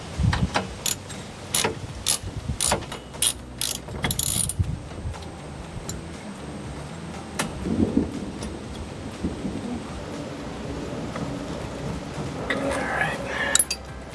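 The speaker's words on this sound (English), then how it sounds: "we're going to take off the rear of the bar with this T40 Torx bit" A ratchet fitted with a T40 Torx bit backs out a roll bar bolt on a Jeep Wrangler TJ, giving a run of sharp, rapid clicks for about four seconds, then quieter handling noises and a brief rustle near the end.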